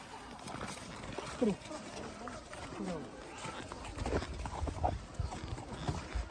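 Horse hooves clip-clopping in an uneven rhythm over a noisy outdoor background in Kashmir, with people talking at times.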